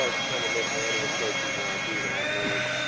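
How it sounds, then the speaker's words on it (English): A rare scratch-built WB57 Canberra electric ducted-fan RC jet flies at an airfield in St. George, Utah, its steady, loud whining drone holding level over several seconds with a slight pitch shift. "rare scratch built WB57 Canberra EDF, St. George, Utah"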